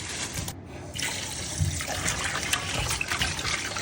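Running water splashes and trickles steadily as beef is rinsed at a kitchen sink, close and continuous for a few seconds.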